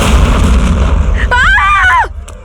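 A single loud gunshot-like bang with a rumbling tail in a dramatic indoor scene, followed at once by a woman's high, wavering cry.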